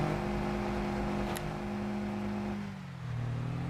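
A tractor engine in the Farming Simulator 22 video game drones loudly at high revs, holding a steady hum while reversing before the pitch dips and settles lower near the end.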